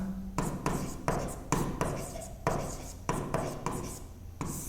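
Rapid, rhythmic scratching strokes of writing on a board during a physics lesson on light refraction, close and clear with short pauses between bursts and no talking.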